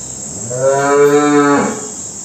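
A Sahiwal cow on a dairy farm gives a single loud, drawn-out moo lasting about a second, rising and falling in tone over a steady background hiss, with no talking.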